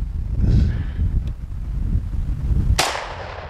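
Gunshots fired at a Kevlar ArmorCore ballistic panel outdoors, with several sharp cracks under wind noise and one loud, close report near the end.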